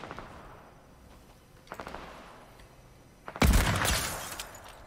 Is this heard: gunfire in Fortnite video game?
yes